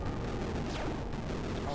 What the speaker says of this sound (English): the boss is putting down a lot of bloody bombs